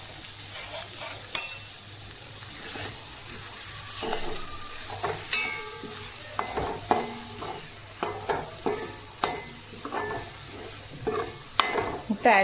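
Three eggs sautéed with shredded chapathi in a pan for fast-food-style egg kothu chapathi: a constant sizzle under frequent clattering spatula strokes and scrapes, close and lively throughout.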